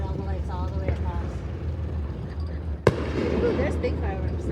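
Fireworks at a lake boat parade: a sharp, distant bang followed by crackling rumble over steady outdoor background noise, with people talking nearby beforehand.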